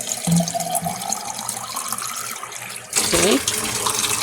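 Cold water pours from a tap into a container for sweet potato slips, splashing and gurgling at close range, stopping briefly and then running again, with a short spoken word.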